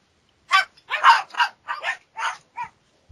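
Dogs barking indoors, a quick series of about eight loud, close yips and barks with short gaps between them.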